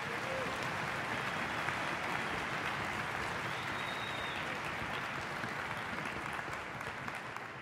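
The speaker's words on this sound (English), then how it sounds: "Please give a huge warm round of applause." A concert audience applauds at a high school music festival in Philadelphia, a steady, dense wash of many hands clapping that holds at an even level throughout with no talk over it.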